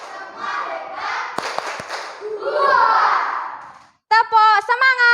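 Indonesian fifth-grade schoolchildren chant together in class, with a few sharp rhythmic claps woven into the chanting before a brief pause and a final burst of voices.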